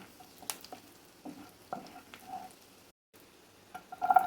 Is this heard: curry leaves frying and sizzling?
yes